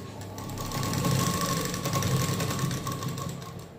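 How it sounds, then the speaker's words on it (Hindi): A sewing machine stitching a prince cut blouse runs in one steady, close whirring burst with a fast mechanical rattle, swelling slightly in the middle before easing off. "अब यहाँ पर अपने को कौन सी सिलाई लगाना है, बीच वाली"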